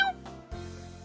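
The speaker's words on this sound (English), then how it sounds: "Meow." A cat meows once, briefly and clearly, in the video game Kitty Love, followed by a low steady game background tone.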